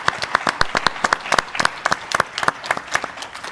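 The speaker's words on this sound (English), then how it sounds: "So I want to give you a round of applause." A small audience at a breakfast workforce event claps, the individual hand claps sharp and distinct, a sparse, uneven patter that stays fairly close and bright throughout.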